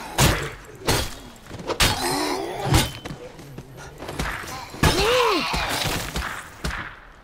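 An axe striking a zombie's head in State of Decay 2, heard as a series of heavy thuds and crashing impacts amid busy game noise, with a brief warbling groan partway through.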